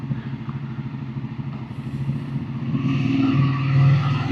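A motorcycle engine running just after a cold start, a steady close rumble with a rough throbbing texture that grows slightly louder toward the end, with no talking.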